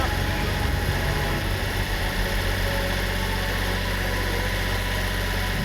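A tractor engine idles steadily on a farm during work on a solar lumber kiln, a continuous low rumbling hum with constant loudness and no talk over it.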